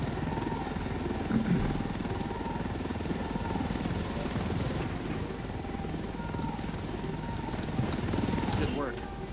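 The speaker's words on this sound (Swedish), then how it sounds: "You can leave the chopper here and the rebels will pick it up." Helicopter rotor drone in the video game Ghost Recon Wildlands, a steady dense whir that holds at an even, moderate level throughout the whole stretch.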